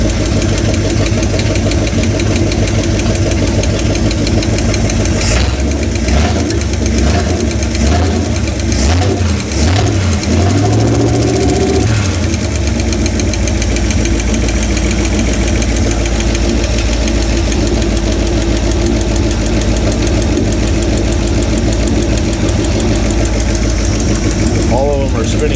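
A 1963 Chevrolet C10 engine cranks over with its spark plugs removed, a steady mechanical spinning drone that runs throughout, with a rougher stretch in the middle; voices talk over it.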